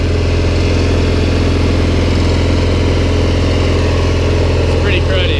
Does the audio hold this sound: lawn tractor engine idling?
yes